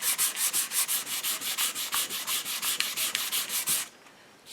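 Hand sanding of a wooden HW30 air rifle stock: steady rhythmic back-and-forth rasping strokes, about four per second, close and loud, stopping near the end with quiet room tone after.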